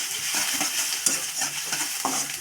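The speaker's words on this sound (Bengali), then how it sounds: "এখন নাড়াচাড়া করবো" Chopped onions and chilies stirred as they fry in mustard oil in a kadai: a continuous sizzle with soft, irregular scraping strokes of the spoon against the pan, close by.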